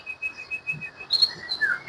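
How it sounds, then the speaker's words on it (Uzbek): Wild birds sing at a mountain spring retreat with thin, high whistled notes, a steady repeated tone followed by brighter rising chirps. The calls are moderately close and heard alone, with no talking. "mana qushlar ovozi ham sayrayapti"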